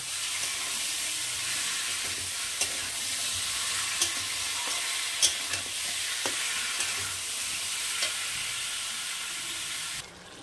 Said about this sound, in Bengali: দিয়ে ঢাকা দিয়ে ভালো করে মাংসটাকে কষিয়ে নেব